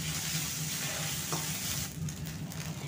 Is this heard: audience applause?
no